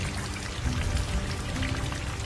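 Rain falling steadily, a dense, even patter with a low rumble underneath, constant and fairly loud throughout with no voices.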